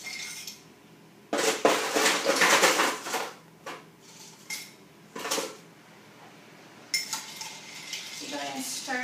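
Ice and a spoon stirring a cocktail in a glass, heard as bursts of clinking and rattling that come and go at close range, with quieter pauses between them.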